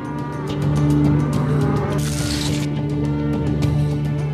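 Cattle lowing over a steady low drone, long sustained moos with a brief noisy burst in the middle, fairly close and loud, no talking.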